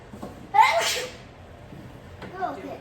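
A single sharp sneeze bursts out, close and loud, followed moments later by a brief spoken voice.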